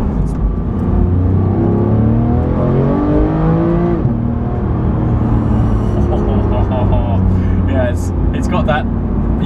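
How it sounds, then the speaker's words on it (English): Porsche 991 GT3 flat-six engine revving and pulling through the gears, its pitch rising and dropping in sweeps, loud and close throughout, with people talking over it. "It still sounds like a Porsche, like a proper GT Porsche."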